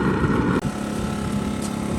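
A wood pellet grill's fan blows steadily, a close continuous whirring hum whose tone shifts slightly partway through and then holds.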